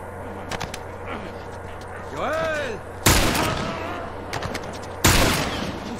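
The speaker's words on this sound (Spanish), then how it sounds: "los tiros se los he dado aquí a Bill" Two loud, sharp bursts of gunfire in the video game The Last of Us, each with a brief decaying tail, break through a background of game sounds and talking.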